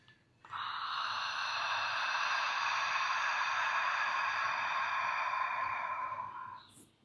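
A long, steady exhale through a constricted throat during ujjayi (ocean) breathing, a soft hissing rush that swells in, holds for about six seconds, then fades, close and alone.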